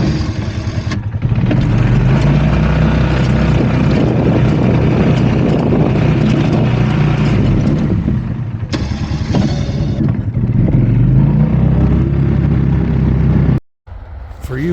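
A snow plow with an ABS plastic blade skims across a snowy lawn, driven by a loud, steady engine drone that swells and dips close by and cuts out briefly near the end. Nobody talks over it.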